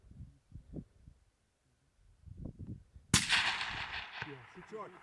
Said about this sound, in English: Good shot, Kenzie.